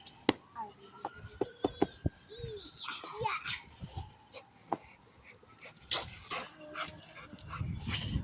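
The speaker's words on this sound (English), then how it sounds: "just a random dog that was going to steal my squash" A dog whimpers and barks in short bursts near a child's chatter, the yelps scattered between voices and small outdoor noises.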